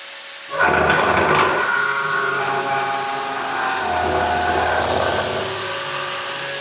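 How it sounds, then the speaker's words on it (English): A CNC mill spindle starts abruptly and cuts an HTD 5M gear, a loud, close whine with shifting tonal pitches and grinding cutting noise that runs continuously to the end. "I'm gonna just up the speed of the spindle right quick"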